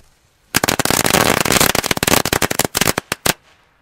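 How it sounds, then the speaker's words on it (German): A string of Ladycracker firecrackers goes off in a rapid, dense crackle of sharp bangs that thins into a few scattered final pops over about three seconds. "dann geht's weiter mit den Ladycrackern"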